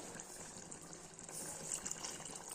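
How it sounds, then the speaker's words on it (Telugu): Soft, steady splashing of half a glass of water being poured into a cooking pot of mutton curry, continuous and fairly quiet, with no voices over it. "నేను హాఫ్ గ్లాస్ వాటర్ పోస్తున్నాను"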